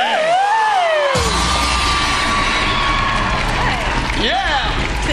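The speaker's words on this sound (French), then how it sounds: "applaudissements de notre DJ aux cheveux longs" At a televised anti-gala show in 2010, a large crowd cheers, whoops and applauds the long-haired DJ. A voice opens the moment, then a loud, sustained roar of clapping and shouting follows that stays strong to the end.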